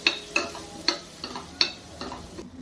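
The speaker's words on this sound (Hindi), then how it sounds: "इसके बाद चलाते हुए बेसन को अच्छे से भून लें" A spoon scrapes and stirs gram flour roasting in oil in a pan, with about seven separate clicking strokes at an irregular pace, close by with no talking.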